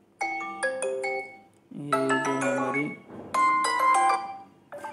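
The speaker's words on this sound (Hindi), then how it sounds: "डिफरेंट डिफरेंट टाइप की जो है रिंगटोन है, हम कोई सी भी यहाँ से सेट कर सकते हैं" Ringtones previewed on a Vivo T1 phone: short chiming melodic tones in quick stepped phrases, one after another, clear and moderately loud, with someone speaking briefly over them.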